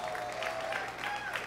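Audience clapping at the EA Play E3 2018 press conference, a steady wash of applause from a large crowd in a hall, moderate and continuous under a low hum.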